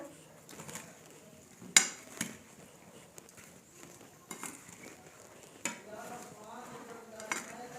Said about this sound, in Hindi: अब हमने इन सब चीज़ों को अच्छे तरीके से हल करना है